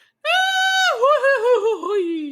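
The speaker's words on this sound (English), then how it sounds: "That was like a cartoon scream though" A goofy, cartoon-like scream from the film The Mummy (1999): a long, high, loud wail that wobbles and warbles downward before trailing off, alone and close.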